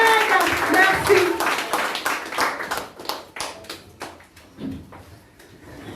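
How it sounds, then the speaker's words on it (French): A church congregation claps during a morning service, a burst of sharp, uneven hand claps that thins into scattered individual claps, with a voice and a sung tone mixed in at the start. "Mon Dieu mérite un tonnerre d'applaudissements ce matin"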